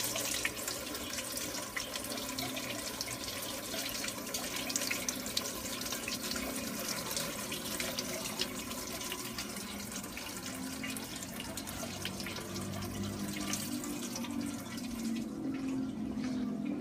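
Water trickling steadily over plant roots in an indoor hydroponic growing setup, a continuous, even splashing and running flow at close range with no voices.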